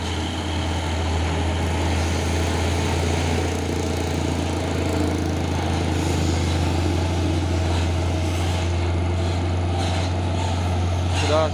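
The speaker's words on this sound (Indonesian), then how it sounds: "Masuk lagi pasukan truk tangki CPO ini ya" A convoy of CPO tanker trucks, Hino models among them, passes close by with a steady, loud, low diesel drone and constant rumble, unbroken throughout.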